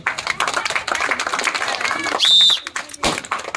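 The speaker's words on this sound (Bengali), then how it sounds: "জোরে হাততালি হবে।" A village crowd claps loudly for a child who won a bottle by bursting a balloon with an arrow, brisk clapping close by, while a voice talks over it and a brief shrill tone cuts in near the middle.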